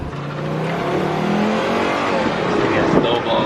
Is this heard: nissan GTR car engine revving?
yes